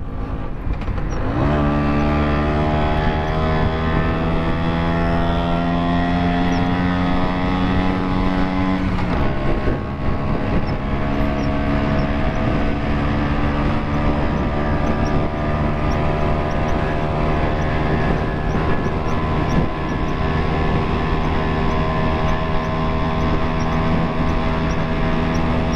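A 1975 Vespa Super scooter engine held at full throttle during a top-speed run, a loud, steady two-stroke drone that climbs in pitch, drops briefly with a gear change, then winds up again and holds high.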